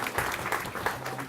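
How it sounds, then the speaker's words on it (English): An audience claps in a short round of applause at a casual gathering with free drinks and pizza, with scattered hand claps and a faint voice underneath. "So give them a round of applause."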